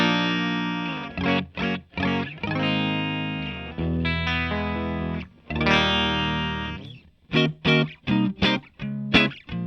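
Dry electric guitar with no added reverb or delay, heard ahead of a Boss RE-202 Space Echo pedal: a run of plucked notes and ringing chords in bursts, some sustained for a second or two, then several short stabs, loud and alone.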